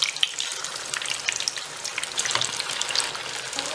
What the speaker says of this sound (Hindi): मैंने तेल को मीडियम हाई फ्लेम पर गर्म किया है और अब हम अपने पकौड़े इसमें डालेंगे।